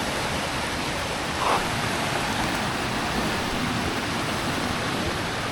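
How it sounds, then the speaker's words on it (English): A waterfall's rushing water roars in a steady, loud broadband wash outdoors beside a river, heard close and unbroken, with no voices over it. "Well, this is the waterfall I'm coming for."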